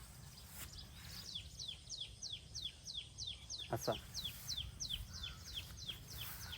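Village birds call on a morning among bamboo: a quick run of bright, repeated chirps, roughly three per second, moderately close but quiet against a soft background. A voice briefly speaks.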